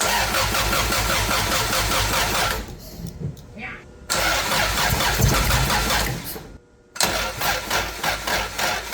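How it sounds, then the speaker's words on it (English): A Nissan 280Z engine cranks and stumbles, cuts out twice, then catches and runs loud and rough, with people speaking over the noise. "We're gonna try to start it and make sure we didn't fuck anything up."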